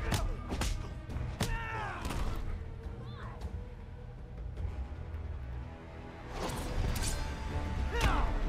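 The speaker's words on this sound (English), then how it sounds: "Oh, punch to the skull." Heavy punches and hits land in the Mortal Kombat X video game, sharp thuds and whooshing strikes in bursts at the start and end, with a quieter stretch between and brief game voice effects.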